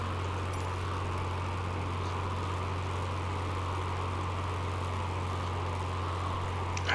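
Propeller plane engine in Microsoft Flight Simulator 2020 on approach to Kulik Lake, Alaska, a steady, droning hum with a constant low throb, unbroken and moderately loud.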